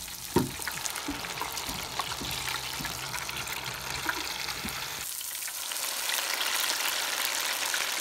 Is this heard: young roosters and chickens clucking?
no